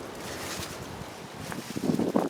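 Cold wind blowing through an outdoor garden, a steady broadband rush buffeting the microphone and growing in gusts toward the end, with no talking.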